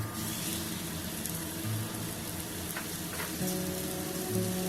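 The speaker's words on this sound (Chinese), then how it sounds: "那我们在锅中倒入2匙的橄榄油， 再把牛排呢轻轻放进去" Chuck steak searing in olive oil in a hot cast-iron pan, a soft, steady sizzle like light rain with a few faint clinks, quiet and continuous.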